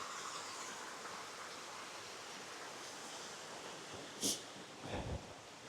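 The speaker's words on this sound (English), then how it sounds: "Got a small waterfall here." A small waterfall in Dhoon Glen on the Isle of Man pours with a steady, broad rushing hiss that holds even throughout, with a couple of brief louder splashes or knocks near the end.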